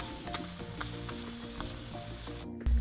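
Crepe batter cooking in a pan over medium-low heat gives a soft, low sizzle with a few faint clicks, quiet and close, ending in a brief louder knock.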